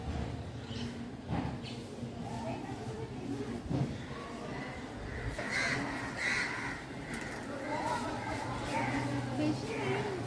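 Crows cawing repeatedly around a rooftop garden, fairly near, mixed with pigeons and other birds, while a person talks over them.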